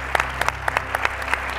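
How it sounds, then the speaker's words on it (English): At an awards luncheon, a modest group of people applauds an honoree, with distinct separate claps coming at an uneven rhythm over a low room hum, fairly close and moderately loud. "let everyone give you your well-deserved applause."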